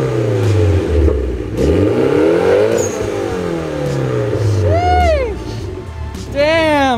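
A Mitsubishi Evo's engine revs repeatedly, its aftermarket exhaust note climbing and falling in pitch, loud and close, with people talking over it.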